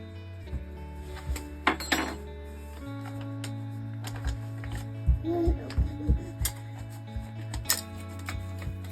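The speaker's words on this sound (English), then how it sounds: "I'm just gonna use a couple tablespoons in each jar, and then just swirl it around in there" Spoon clinks and taps against glass jars while sugar is stirred and swirled in, a run of short bright knocks and scrapes close by, over a steady low hum.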